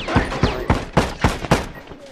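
Rifle fire in The Last of Us multiplayer: six sharp, evenly spaced shots ring out over about two seconds, loud and close.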